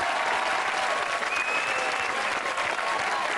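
A studio audience at a televised dance competition applauds, a dense, even wash of clapping that holds steady and loud for a few seconds without pause.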